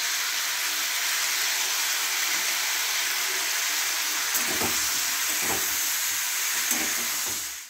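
Steady loud sizzling of spices frying in a pan after turmeric powder goes in, for a sour jujube (kul) chutney, with a few soft stirring knocks partway through.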